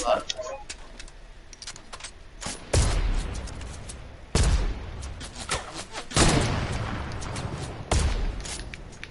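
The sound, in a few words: gunfire in video game Fortnite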